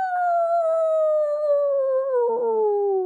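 A cartoon dog gives a long, falling yelp or howl as it is kicked up into the air in a children's story, with a brief rough bark near the end, loud and close with no talk over it.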